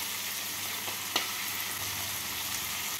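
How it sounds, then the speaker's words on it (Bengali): Spices stirred with green peas and vegetables in a frying pan, turmeric, salt, ginger paste and slit green chillies among them, giving a soft continuous sizzle with a few faint scrapes, quiet and even, with no talk. "সবজির সাথে মশলাগুলোকে নাড়াচাড়া করে নেব"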